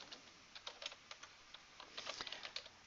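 Soft, quiet clicks of a computer keyboard come in irregular bursts as table headings are typed into a word processor. No one talks.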